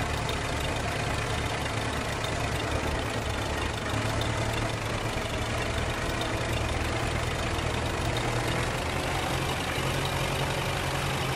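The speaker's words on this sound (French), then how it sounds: "Il est vraiment excellent ce tracteur." Tractor engine in Farming Simulator 15 running steadily for the whole stretch, a constant loud mechanical drone with no talk over it.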